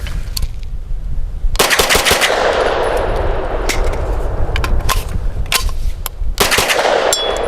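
Close, loud bursts of gunfire from a Stribog carbine fed by a Glock-pattern magazine, a quick string of sharp shots with echoing decay and short gaps between, with no talk over them.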